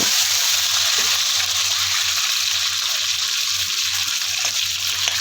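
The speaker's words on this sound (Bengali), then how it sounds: "ওই তেলের মধ্যে আমি প্রথমে আলুটাকে একটু ভাজা ভাজা" Potato pieces frying in hot oil in a pan after the fish, a steady loud sizzle and bubbling hiss held close throughout with faint occasional clinks.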